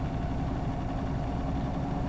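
Tractor engine running steadily under load while plowing a farm field, a continuous low rumble with even vibration and no breaks, fairly close and moderately loud.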